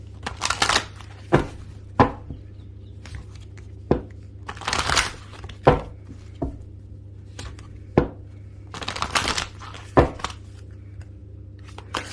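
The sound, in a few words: shuffling tarot cards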